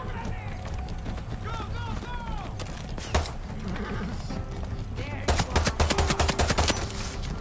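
Gunfire in Far Cry 6 cracks out as scattered single shots before a rapid burst of shots near the end, heard under in-game voices and movement.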